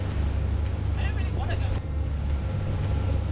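A mail cruise boat motors through the Marlborough Sounds in cloudy, rainy weather, its engine a steady, loud low drone with wind and water wash throughout and faint brief voices partway through.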